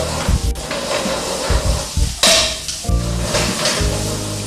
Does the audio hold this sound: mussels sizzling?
yes